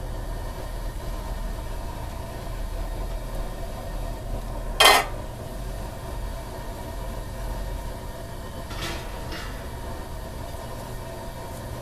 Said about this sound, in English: Okay, we are now going to put the wort chiller in.